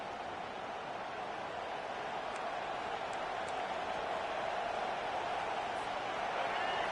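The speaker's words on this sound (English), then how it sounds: "Decibels rising as the crowd gets behind this defense on 3rd down." A football stadium crowd roars for the defense on third down, a broad, steady wall of cheering noise that holds loud and unbroken throughout.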